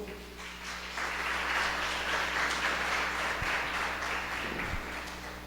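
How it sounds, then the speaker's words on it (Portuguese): A church congregation applauds in a sustained, dense wash of clapping lasting several seconds, steady and moderately loud, with a low hum of room noise underneath. "Palmas para o Senhor."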